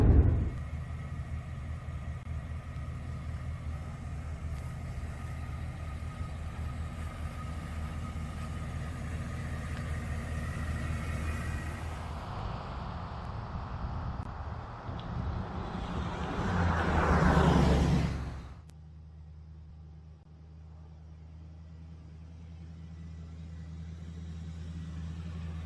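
A truck with 532,000 miles on it, driven daily, rumbles with a steady engine and road drone that swells briefly, then drops to a lower, quieter hum, as if slowing or idling.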